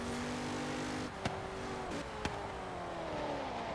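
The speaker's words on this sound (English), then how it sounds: "This car sounds good." A car engine in Forza Horizon 3 holds a steady, loud drone with shifting pitch as it revs and changes gear, broken by a few brief clicks, with no talking over it.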